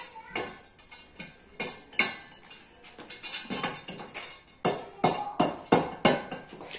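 Repeated sharp knocks as a Kenda Thorax tyre is tapped onto a Honda Fan 160 motorcycle wheel, a dozen or so close, irregular metallic-sounding taps with brief gaps between them.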